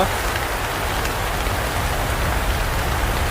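Heavy rain pours down in a dense, constant wash of drops, loud and close, with no pauses.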